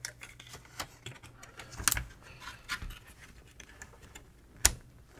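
An interface card for an Okidata Okimate 20 printer being pushed into its slot: a series of small plastic clicks and rattles, with a few sharper snaps standing out, close and fairly quiet.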